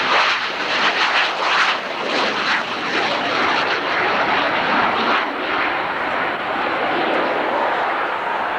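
A military jet climbs out at an airshow with a loud, sustained roaring rush that holds steady throughout, heard from the crowd at moderate distance.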